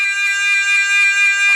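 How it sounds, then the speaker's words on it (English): An aircraft cockpit engine fire warning sounds as a steady, shrill buzzing horn that holds one continuous tone throughout, loud and alone. "Sounds like a horn instead of a fire alarm."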